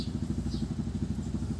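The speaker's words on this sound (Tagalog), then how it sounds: "sige, labas. May motor." A motorcycle engine runs at a distance outdoors with a steady low rumble, faint and continuous throughout, with no talking over it.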